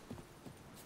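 Roach, a horse in The Witcher 3, clops its hooves a few times in quick, soft steps, quiet and close against a low game ambience.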